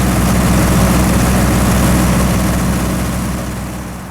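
A military surplus generator running steadily under test after years of sitting, a loud continuous low engine drone with a dense hum that eases slightly toward the end.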